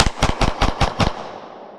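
A Mossberg MC1 SC pistol fires six sharp close shots in quick, even succession during a mud test, then the last report rings off and fades.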